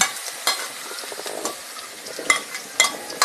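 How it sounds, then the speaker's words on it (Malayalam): Garlic and dried red chillies sizzle steadily in hot oil while being sautéed for an okra curry, with a continuous crackling hiss and a few sharper pops and spoon scrapes scattered throughout. "ഉണക്കമുളകും ഇട്ട് നല്ലപോലെ മൂപ്പിച്ചെടുക്കുക അതിലേക്ക് വെളുത്തുള്ളി ചേർത്ത് കൊടുക്കുക"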